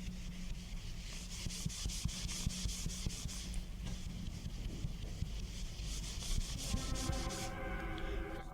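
A steady, close grinding scrape of a hand rubbing back and forth over rough, unclayed car paint on a tailgate, continuing without pause throughout.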